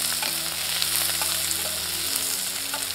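Food sizzles steadily in a pan while being stirred, a close continuous frying hiss with occasional scraping clinks of the utensil and no talking.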